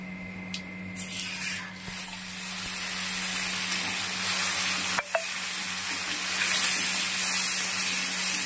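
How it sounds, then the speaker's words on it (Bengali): Ginger, green chili and tomato paste added to a hot pan for doi potol, a loud burst of sizzling with scraping stirs and a sharp clank midway, the frying hiss swelling and staying strong. "এবারে দিয়ে দেব আদা, কাঁচা লঙ্কা আর টমেটো বাটা।"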